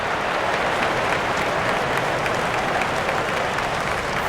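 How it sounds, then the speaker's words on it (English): A baseball crowd in the MLB 12 The Show video game cheers and applauds continuously as a steady, dense roar, loud and unbroken, with no talk. "Not the largest crowd ever, but they're on their feet."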